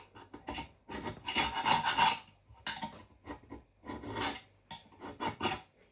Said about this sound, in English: the rounded chisel is my favourite for doing this, for removing that silicone